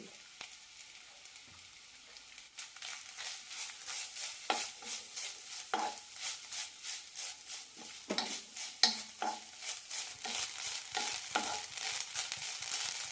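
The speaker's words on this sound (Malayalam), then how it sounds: "ഇത് നന്നായി വറുത്തെടുക്കാം പാനിലേക്ക് ഒരു ടീസ്പൂൺ എണ്ണ ഒഴിച്ചിട്ടുണ്ട് ഇതിലേക്ക് തേങ്ങ ഇടാം" Grated coconut roasting in a teaspoon of oil with curry leaves in a pan for a drumstick curry, giving a steady sizzle broken by repeated scraping stirs, fairly close and continuous with no voices.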